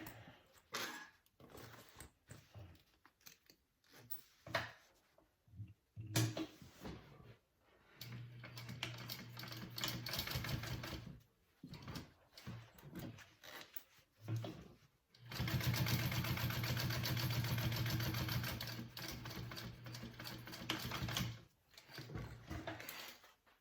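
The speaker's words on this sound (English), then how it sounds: "And now I'm sewing along the top line." A sewing machine stitches along the top line of a circle bag, running in long steady whirring bursts broken by pauses and small clicks, close and moderately quiet.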